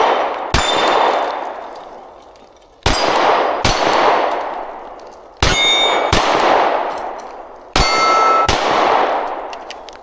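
Four sharp pistol shots from an MC9 Prime ring out at spaced intervals, each followed almost at once by a bright metallic clang from a struck steel target, with a long ringing decay between shots.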